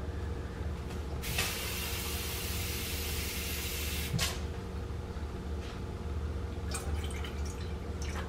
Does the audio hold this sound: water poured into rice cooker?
yes